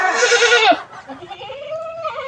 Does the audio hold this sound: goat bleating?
yes